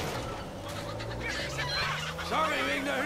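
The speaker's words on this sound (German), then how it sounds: "Sorry wegen der Hühner" Chickens cluck and squawk in the video game Uncharted 4, a flurry of agitated fowl calls over steady game background noise, growing louder and more frantic toward the end.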